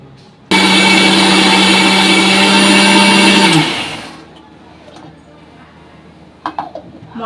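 Electric kitchen grinder whirring loudly for about three seconds as it blends a spice paste of onion, ginger, garlic, tomato, chilli and coriander, then spinning down into quiet with a few small clatters.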